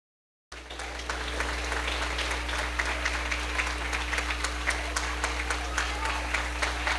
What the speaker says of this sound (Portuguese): Você pode aplaudir ao Senhor com alegria.